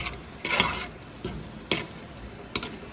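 Cashews, almonds, raisins and pistachios lightly frying in a pan, with three distinct stirring scrapes over a soft, low background sizzle.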